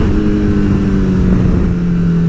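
Motorcycle being ridden, its engine running at a steady, loud, close drone with a constant low hum and no speech.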